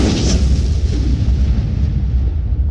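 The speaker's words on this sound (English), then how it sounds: "it's just those explosions you gotta watch out for" Bob-omb explosions from the NES game Super Mario Bros 2 make a loud, continuous roar of 8-bit noise that rumbles on for nearly three seconds without a break.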